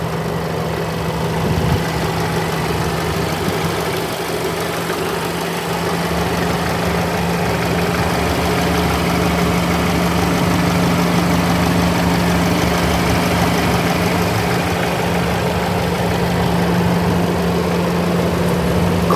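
A 2018 Alfa Romeo Stelvio Sport AWD, 280 horsepower, idles steadily with its hood open, a continuous low engine drone with a faint hum that holds even for the whole stretch, with no talking.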